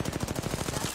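Rapid automatic gunfire from a video game firefight in a ranked match, a dense unbroken burst of shots running the whole second at steady loudness.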